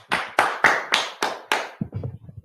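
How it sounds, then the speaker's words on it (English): Handclaps from a class in Fayetteville, North Carolina, five sharp, evenly spaced claps ringing out close and loud, then a looser patter of quieter, softer claps trailing off. "Most High in Christ, clap it up."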